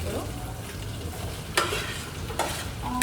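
Mint, coriander and onion sizzling in a pan for biryani, a steady close crackle broken by a few sharp scrapes of a spoon stirring, no talking.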